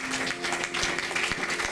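Congregation applauding during a church deliverance service, a dense burst of clapping filling the space at moderate loudness.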